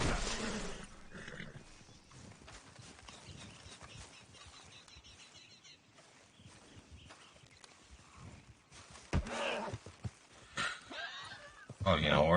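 In a video game, a horse whinnies and its hooves clatter amid scuffling movement, with a sharp neigh burst near the end, while a player talks over much of it.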